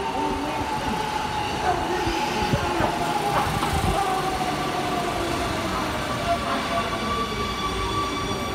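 An Amsterdam North-South line metro train moves through a station, with a continuous rumbling roll, squealing wheels and steady rail clatter, loud and close, while voices talk faintly in the background.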